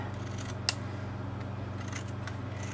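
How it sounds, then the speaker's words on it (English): Scissors trimming a paper sheet down to 4 inches wide during rubber-stamp crafting, a few quiet snips close by over a steady low hum, with one sharper cut standing out. "Oh, I probably should have trimmed it down a little. Let me trim it."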